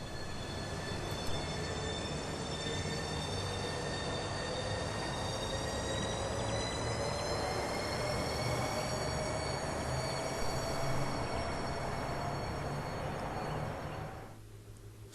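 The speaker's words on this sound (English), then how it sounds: "These are operated by a fleet of dedicated Class 395 Javelin units, which can run up to 140 miles an hour on the high-speed 1 line" A Class 395 Javelin train in the Railworks simulator runs on the Sittingbourne to Sheerness line with a steady, loud, continuous rolling roar and high whine, and no voices, easing off at the very end.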